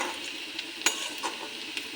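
Garlic and onion frying over a very low gas flame, a soft steady sizzle broken by a few stirring clicks and scrapes of a utensil against the pan.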